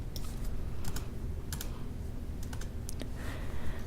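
Quick bursts of typing on a computer keyboard, close and fairly quiet, with irregular clicky keystrokes over a steady low background hum.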